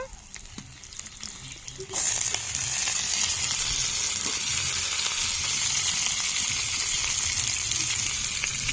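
Peas hit a hot pan for a potato curry, and a quiet background suddenly jumps into loud, continuous sizzling and hissing that holds steady to the end.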